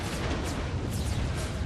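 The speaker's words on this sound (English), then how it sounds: "We've got quite a furious artillery bombardment." Dense, continuous rumbling barrage of cannon fire in the Napoleon: Total War game during a Gettysburg Pickett's charge battle, heavy booms blurring into a steady roar.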